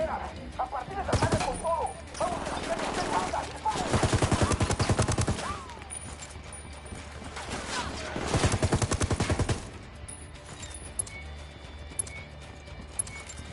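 Gunfire in the video game Ghost Recon Wildlands: bursts of rapid shots in several dense clusters with quieter gaps between, fairly loud and close, with some game sounds mixed in.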